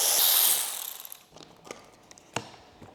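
A hand ratchet working on the alternator back cover of a VW Phaeton W12, a loud burst of fast clicking that fades into a few sparse separate clicks and taps.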